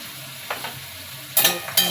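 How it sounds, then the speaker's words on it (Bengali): Vegetables for Bengali-style chowmein are stirred in a hot pan, with a few quick, close scraping strokes over a low continuous sizzle. "নেড়ে চেড়ে দেবো।"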